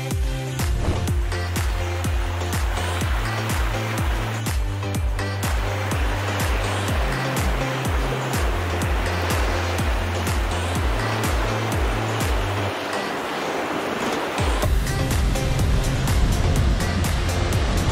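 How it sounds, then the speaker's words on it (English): A roaring waterfall heard from behind the falls in freezing winter conditions, a loud, dense, continuous rush of falling water with a steady pulsing rumble close by and no talking. "We're here in behind the treacherous waterfall."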